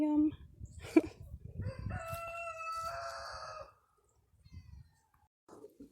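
Backyard chickens heard at moderate distance, a drawn-out crow-like call rising over scattered clucks and rustling, then fading into near quiet with a few soft bird sounds at the end.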